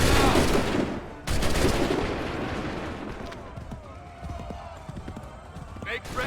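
A loud musket volley from soldiers in Assassin's Creed opens with a heavy blast and a second crack, then trails into rumbling echoes, hoofbeats and scattered battle noise, with voices shouting over it.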